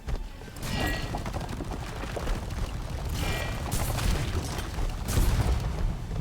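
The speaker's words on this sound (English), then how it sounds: "I think I caught myself in the explosions" Explosions in the video game Graven: a continuous rumbling barrage of booms and crackling blasts, with louder bursts near the start, middle and end, dense and sustained.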